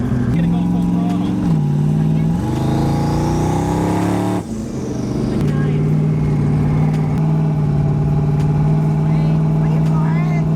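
A twin turbo Fox Body car roars at full throttle from inside the cabin, a loud sustained engine drone whose pitch climbs, dips briefly at a shift, then holds a steady high note.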